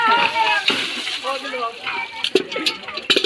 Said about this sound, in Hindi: देखो रोशन उचक्का को कैसे पानी झोंक रहा है हमको